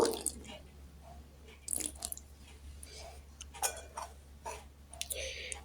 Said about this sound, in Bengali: একটু একটু করে পানি অ্যাড করব